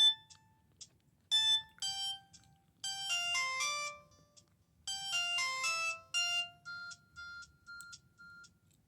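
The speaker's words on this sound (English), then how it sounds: "let's go ahead and play some ringtones" A Samsung SGH-T105G TracFone handset plays a polyphonic ringtone of bright, electronic beeping notes in quick melodic runs separated by short gaps, clear against a quiet background.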